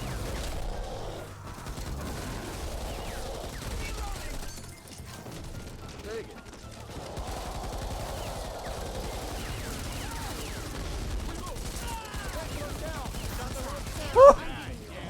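Sustained LMG machine gun fire in the shooter game Back 4 Blood, a dense rattling stream of shots running throughout, with one sharp louder burst near the end.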